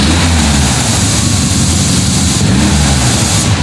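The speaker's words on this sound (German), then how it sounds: "Das Zischen, was ihr hört, kommt vom Vergaser." A car engine idles steadily and loudly, with a continuous broadband hiss from the carburetor running over the low engine rumble throughout.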